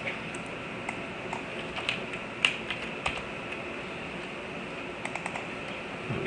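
Keys on a computer keyboard click sparsely while ham radio logging software is used, a few separate taps including an F7 key press, faint against a quiet room hum.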